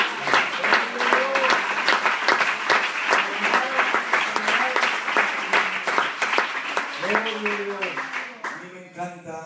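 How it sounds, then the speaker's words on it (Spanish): A church congregation applauds during a sermon on reconciliation, dense rapid clapping that holds steady, mixed with shouts and voices, then fades as a voice speaks at the end. "Denle un aplauso al Señor."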